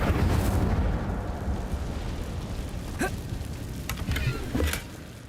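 Incendio fire spell cast in a wizarding video game, several sharp fiery bursts and crackles arriving in quick succession over a continuous low rumble of game ambience.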